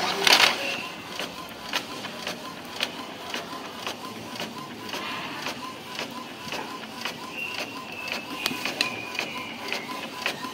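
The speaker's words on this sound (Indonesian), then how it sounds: "Nah, coba ini kita ngeprint lagi." An Epson L3110 inkjet printer feeds and prints a page, its rhythmic clicking and whirring carriage passes repeating steadily at close range, with someone talking at times.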